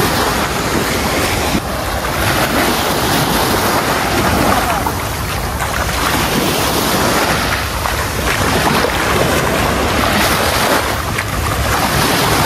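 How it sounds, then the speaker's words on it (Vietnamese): Ocean waves wash steadily onto a beach at Phu Quoc, a loud, continuous roar of surf with gusts of wind buffeting the microphone and no voices. "đi bộ dọc dọc theo bãi biển này"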